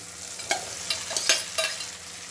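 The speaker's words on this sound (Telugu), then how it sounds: "బీరక ముక్కలు వేసి తిప్పుతారు" Ridge gourd pieces stirred in a hot pan with a light sizzle, a few soft scraping strokes of a spoon repeating at irregular intervals, close and fairly quiet, no voices.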